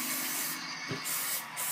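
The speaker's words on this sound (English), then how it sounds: "So I'm going to give the whole pan a spritz with this." Canola cooking spray hisses out in short spritzes over a cake pan, a close, airy burst followed by a second brief puff.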